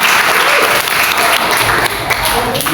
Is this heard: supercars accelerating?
no